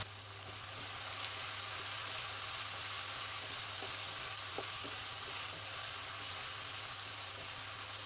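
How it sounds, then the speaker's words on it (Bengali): Potato pieces frying in oil in a pan, seasoned with a little salt and turmeric, giving a steady, close sizzle that runs unbroken from start to end with no voices. "আলুগুলো ভেজে নিব।"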